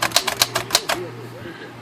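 Remington portable typewriter with large primary type and a repaired feed roller, typing a short run of sharp, close key strikes in quick uneven rhythm for about a second, then a softer low mechanical rattle as the keys stop.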